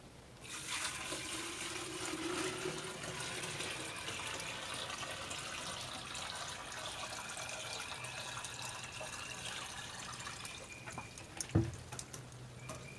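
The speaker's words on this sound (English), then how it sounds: "Right now the water's flowing back into that one skimmer pipe." Pool water flows into a skimmer pipe while the pool is being opened, a steady rushing gush that continues throughout, with a brief clunk near the end and no talking.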